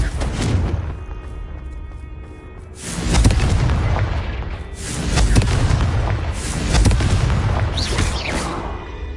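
Booming blasts from the Confringo spell in the game Hogwarts Legacy, loud and rumbling and repeated a few times, swelling and fading over a dull background.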